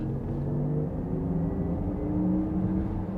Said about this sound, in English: you can turn on the electric Sport sound here